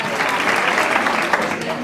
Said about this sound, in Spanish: Un fuerte aplauso para Irene, los del fondo también.